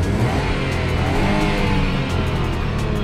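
A Volkswagen Gol 1.0 three-cylinder, 12-valve engine drones loudly accelerating uphill, a steady rumbling strain with no voices, close to the listener throughout.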